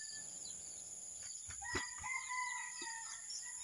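A rooster crows faintly in the distance over a quiet farm morning backdrop with a steady high whine, with a few soft knocks nearby.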